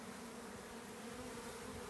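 Bees swarm around an established desert beehive being removed, a dense, steady buzzing that fills the air, close and continuous.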